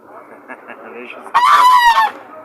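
A goose gives a loud, harsh honk up close at a poultry market in Dörtyol, Hatay, Turkey, after a moment of quieter murmuring and shuffling in the background.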